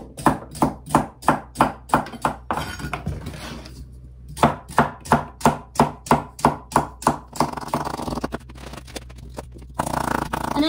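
Knife chopping through rhubarb stalks in quick, close, evenly spaced strokes, two steady runs of crisp chops separated by a short pause, with softer scraping toward the end.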